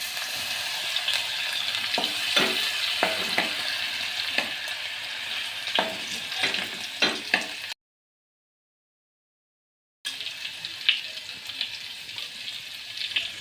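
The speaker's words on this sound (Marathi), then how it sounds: "जिरे तडतडल्यानंतर त्यात 1 चमचा अद्रक लसूण पेस्ट घालायचे." Ginger garlic paste fries in hot oil with cumin seeds, a close, continuous crackling sizzle marked by sharp pops, which breaks off into silence for a couple of seconds before resuming.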